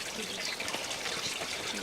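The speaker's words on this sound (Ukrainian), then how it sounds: "на цьому місці, де б'є цілюще джерело" Healing spring water trickling and burbling steadily at a holy site, a close continuous splashing flow with no talk over it.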